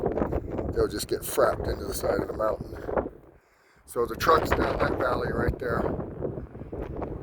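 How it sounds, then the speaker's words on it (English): Strong wind on a mountain hilltop in the Cherry Creek mountains near the snow line buffets the microphone in loud roaring gusts. It eases briefly midway, and someone talks over it throughout. "Sorry about the wind."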